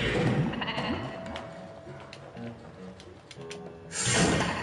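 Sheep bleat repeatedly in the PS4 video game Escape Plan, wavering cries close and fairly loud over soft game ambience, with a burst of noise near the end.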